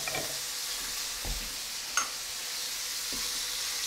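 Meat sizzles steadily in a hot pan after being flipped, a constant close hiss broken by a few soft knocks and scrapes of the utensil.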